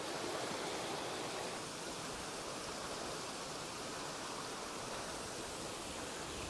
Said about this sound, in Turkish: Sıcak suyun sesi geliyor.